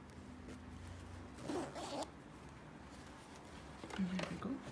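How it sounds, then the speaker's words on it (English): A concealed invisible zip on sewn fabric is pulled up in two short zipping strokes, quiet and close, separated by a brief pause. "I'm just going to check now that my zip will actually do up."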